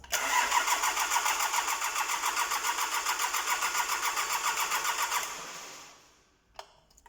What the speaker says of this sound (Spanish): Vamos a hacer la prueba y vamos a darle arranque al vehículo.